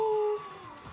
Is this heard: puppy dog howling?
yes